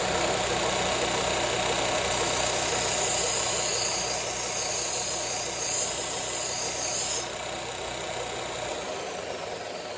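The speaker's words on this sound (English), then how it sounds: "First thing we're going to do here is put an edge back on our little scraper." Continuous close grinding or honing of a small steel scraper blade, a steady dense rasp with a high metallic whine that cuts off near the end, leaving a lower hum.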